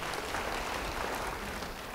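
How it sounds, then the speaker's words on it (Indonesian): A church congregation bursts into dense, sustained applause during a service, loud and even throughout the brief stretch. "Beri tepuk tangan bagi dia."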